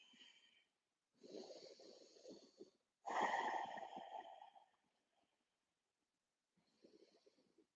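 Soft, deep yoga breaths in a quiet room at home, with a long audible exhale while folding forward, framed by quieter breaths before and after.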